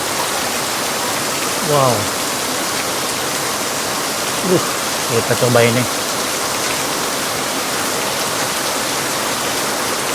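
Heavy rain pours down steadily at a roadside chicken noodle stall, a dense hiss filling the whole scene while a person speaks briefly over it.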